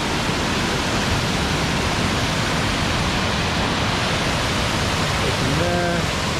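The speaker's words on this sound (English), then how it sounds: "Whoa, loud waterfall." Loud waterfall at Bokor, Cambodia, a steady, dense roar of crashing water filling the whole clip, close and overpowering, with a brief voice near the end.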